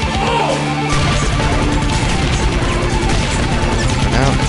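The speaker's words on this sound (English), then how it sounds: "I'll use the machine gun in these days." Machine gun firing in the video game Iji, loud rapid-fire shots mixed with crashing impacts and explosions, continuous and dense throughout with no talk.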